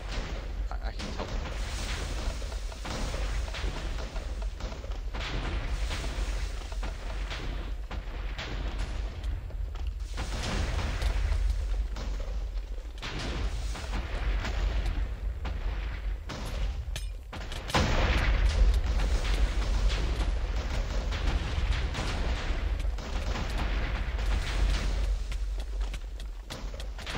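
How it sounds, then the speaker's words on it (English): TNT explosions in a Minecraft TNT battle mini-game keep booming and rumbling heavily throughout, a dense and loud barrage with a sharp, stronger blast partway through. "Oh man, that thing is exploding."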